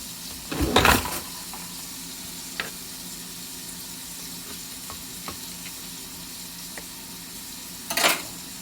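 Shrimp for devilled shrimp cooking in a pan, a steady low sizzle throughout with a couple of louder scraping stirs at the start and end and small clicks between.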